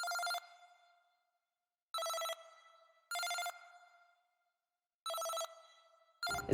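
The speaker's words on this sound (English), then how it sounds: "It's kind of like a weird glitchy sound. It reminded me a little bit of a video game" A glitchy, game-like Analog Lab synth fires short bright bursts in an uneven pattern, four clipped electronic stabs each fading quickly into silence, with a fifth starting at the end, no voices.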